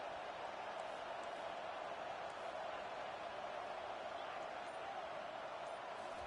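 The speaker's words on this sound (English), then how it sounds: "Listen to this crowd just shaking the girders of this place" Loud, steady roar of a stadium crowd at a football game, filling the air continuously as fans cheer to help their defense, a dense wash of noise with no single voice standing out.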